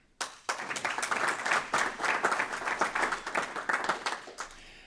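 An audience at an autumn seminar session breaks into applause, a dense burst of many hands clapping that swells quickly, holds steady for several seconds, then thins out and fades.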